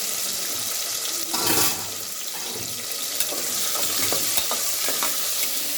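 Onions sizzle in a hot pan for mutton biryani, a steady crackling hiss with bursts of stirring and clattering utensils, close by and continuous.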